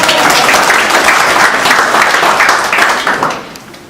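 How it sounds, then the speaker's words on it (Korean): Audience at a general assembly meeting claps in sustained, even applause that fills the room, holding steady before fading slightly toward the end. "박수 한번 주시죠"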